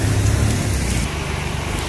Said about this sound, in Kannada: ಇಲ್ಲೂ ಮತ್ತೆ ಮಳೆ ತುಂಬ ಬಂತು